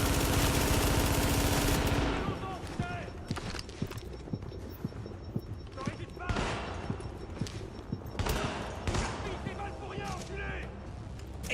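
Gunfire in the video game The Division, a dense burst of rapid shots at first, then scattered single shots and short volleys, with someone talking over it.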